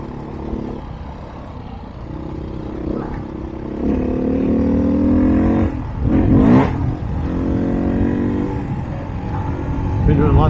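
Off-road vehicle engine on an OHV trail in Colorado's China Wall area, running steadily and swelling into louder revs with clattering bumps from whoops and small jumps, close and continuous throughout.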